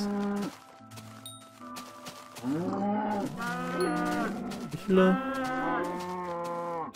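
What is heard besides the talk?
cows mooing in the video game Minecraft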